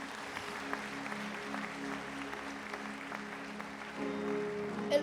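A church congregation claps during a sermon, a steady, moderately loud patter of many hands throughout, swelling slightly near the end.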